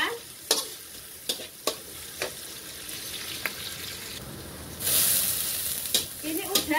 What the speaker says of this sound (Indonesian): Lebih besarnya ditumis sampai harum ya.